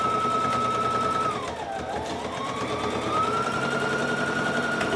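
A sewing machine runs in a fast, steady mechanical rattle while back stitching a hoodie cuff, its motor pitch dipping briefly mid-run as the stitch direction reverses, then resuming close and continuous.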